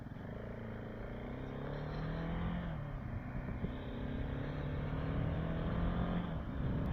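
A Husqvarna 701 Enduro motorcycle accelerates on a highway, its engine tone rising steadily through the gears under continuous wind rush, moderately loud, with no talking.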